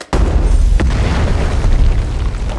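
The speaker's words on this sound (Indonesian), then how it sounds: "Setelah ledakan terjadi" A deep, loud boom from a bomb explosion in the film Warfare (2025) bursts suddenly and then rolls on as a sustained rumbling roar.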